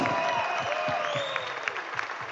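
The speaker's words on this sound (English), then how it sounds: "Give a round of applause for these guys." Audience applause at SkankFest in Mardi Gras World, a steady wash of clapping crowd under a tonal background, with no voices.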